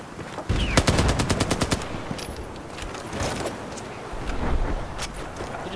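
Battlefield 4 gunfire rattles off in a rapid automatic burst near the start, followed by scattered softer shots and game noise.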